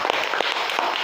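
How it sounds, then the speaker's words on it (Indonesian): Elementary school classroom children clap together, a brief dense burst of close applause with a few sharper individual claps standing out. "tepuk tangan untuk kalian semua"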